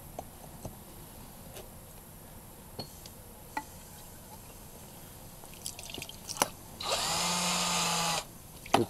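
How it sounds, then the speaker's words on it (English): A power drill bores a hole into the side of a water-wetted propane canister, heard as one steady, loud whine of about a second that follows quiet scattered ticks and taps. "I'm going to try to drill another hole in the other side."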